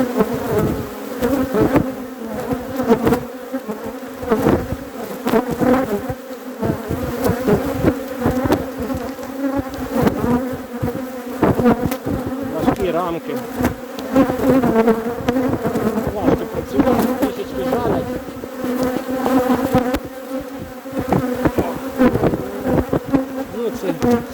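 Honey bees at a wooden hive during an inspection on a rural homestead make a dense, continuous buzzing hum, loud and close, with many individual bees droning past without pause.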